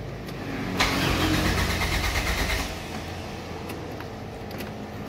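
A fuel-injected car converted to run on LPG cranks on a starting attempt, a loud steady whir of the starter for about two seconds that stops without the engine catching, followed by a quieter hum.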